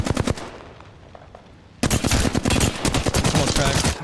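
Rapid automatic gunfire from an Apex Legends match, dense bursts of close, loud shots with a brief lull before the firing resumes harder and continues steadily to the end.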